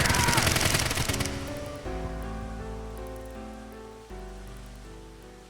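Gunfire erupts in the AI Somnium 2 video game: a dense, loud rapid burst of shots lasting about a second, fading as a sustained tonal musical score takes over.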